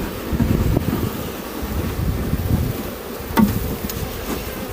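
Honeybees swarm around an opened hive in close, dense buzzing, a steady droning hum with some wind rumble against the microphone and occasional louder passes near the mic.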